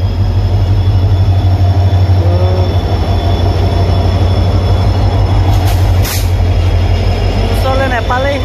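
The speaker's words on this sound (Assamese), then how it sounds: "ট্ৰেইন আহি গ'ল দেখিব পাইছে।" Train pulling into Silapathar station in rain, loud continuous rolling rumble of wheels with brief squeals and clanks, close by, as people talk over it.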